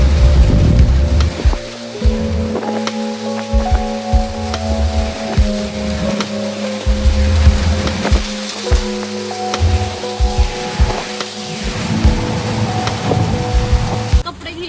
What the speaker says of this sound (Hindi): गाइस बारिश इतनी तगड़ी आ रही है